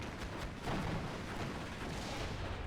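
Big artillery fire in the WWII strategy game Steel Division II, a dense, continuous rumble of booming shell impacts and distant blasts that swells slightly partway through and carries on steadily.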